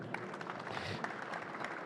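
Conference audience applauding after a speaker introduction, a short burst of scattered, fairly close claps from the room.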